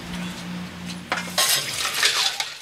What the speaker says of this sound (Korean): 설거지는 재균 씨 몫이다